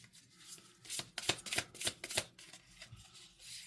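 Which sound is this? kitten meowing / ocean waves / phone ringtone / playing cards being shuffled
playing cards being shuffled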